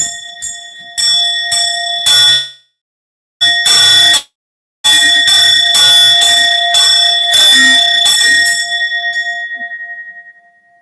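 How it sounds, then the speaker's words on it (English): Bell rung repeatedly at a New Year church service, bright sustained ringing in several bursts with short silent gaps, loud and close, ending in a long fading decay. "Ring the bell again."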